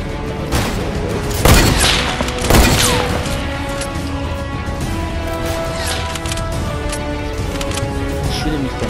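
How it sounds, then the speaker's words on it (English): Sniper gunfire in a shootout video game: a few sharp, loud reports stand out early, followed by a steady busy background with speech-like sounds mixed in. "Who's shooting?"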